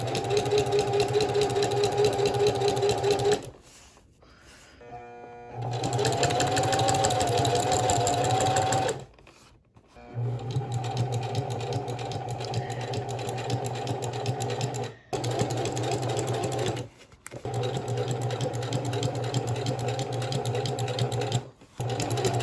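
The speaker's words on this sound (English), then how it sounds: "And we're going to sew it here." A sewing machine stitches a car shifter gaiter for a 1936 Chevy coupe, running in long steady whirring bursts separated by short pauses, close and loud, with no speech.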